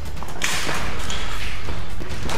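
A gas-powered airsoft grenade, the Storm Apocalypse, goes off with a loud, sustained rushing hiss of escaping gas close by that fills the whole moment, with a sharp burst near the start.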